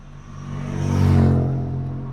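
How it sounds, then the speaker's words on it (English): A Chrysler Neon's 4-cylinder engine accelerates uphill, its exhaust note swelling to a peak and then easing off a little, steady and fairly close, with no talking. "How did I give a 4-cylinder car that nice an exhaust note?"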